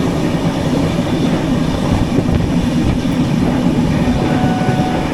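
Steady rumble and rattle of the 22208 Trivandrum–Chennai AC Superfast express running on rails between Palakkad and Chennai, a continuous loud onboard roar with faint rhythmic clatter and no talk.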